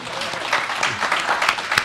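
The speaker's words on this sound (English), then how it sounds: "Thank you. Applause." An audience at a Rwanda Nordic-Baltic forum applauds in a short, dense burst of clapping, with a faint voice mixed in underneath.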